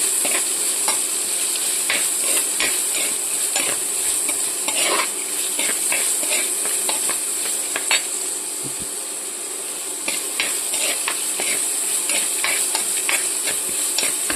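Smashed jackfruit seeds and drumstick leaves curry is sautéed in a pan, with continuous close sizzling and frying under frequent scraping clicks of a stirring utensil against the pan.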